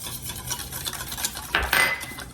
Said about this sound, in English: Into that, I'm going to whisk 4 teaspoons of pumpkin spice.